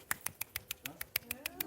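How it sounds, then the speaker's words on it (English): One-handed clapping: a quick, even run of about a dozen sharp, snap-like pops made by a single hand, close and fairly quiet, with faint voices in the background. "I'm clapping with one hand."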